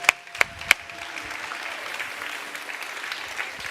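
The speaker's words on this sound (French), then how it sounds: "Est-ce qu'on peut applaudir notre Dieu?" A church congregation claps during a French-language service, starting with three sharp, close claps before settling into a fainter, diffuse spread of applause.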